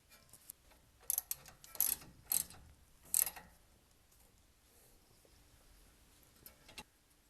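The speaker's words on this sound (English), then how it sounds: "We'll get this thing torqued down to spec and put the cotter pin in place." A ratchet wrench clicks in a few short bursts while a castle nut is tightened on the tie rod end of a Dodge Ram 1500, close and crisp, followed by quieter pauses with light tool handling.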